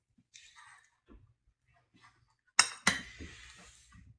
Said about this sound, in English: I'm going to mash my rice out just a little bit